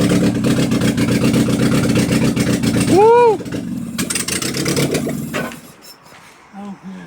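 A Nissan S12 Silvia engine, freshly reassembled and spitting flames from the exhaust, runs with a loud rough roar and a couple of sharp revs before dying away, while people shout and talk excitedly nearby.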